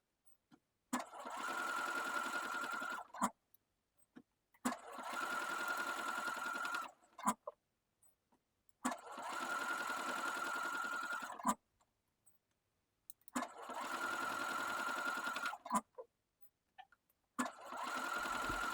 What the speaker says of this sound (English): Sew the centre front and back seams.